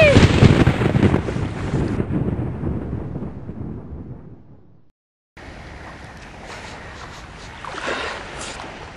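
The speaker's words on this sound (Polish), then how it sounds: "Burza nadchodzi!" A heavy rumble of thunder from an approaching storm rolls loud and then fades away, cuts to silence, then gives way to a steadier windy, stormy wash.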